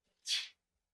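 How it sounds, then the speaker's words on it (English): A single tiny, breathy sneeze, short and soft, close to the listener, followed by silence. "Tiny sneezes."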